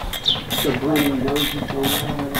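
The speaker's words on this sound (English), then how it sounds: "One of the best tools that they came out with is the ratcheting combination wrench." Ratcheting combination wrench, 11mm, snugging nylon lock nuts during a paramotor engine rebuild, giving a close run of rapid clicking pawl bursts with brief gaps and faint background voice.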